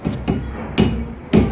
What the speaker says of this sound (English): So you don't have to use a big hammer